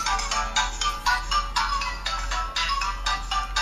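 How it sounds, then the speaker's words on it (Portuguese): Upbeat Angry Birds game music plays steadily from a nearby device, a bouncy electronic tune with regular pulsing note groups and no voices over it. "Música do Angry Birds."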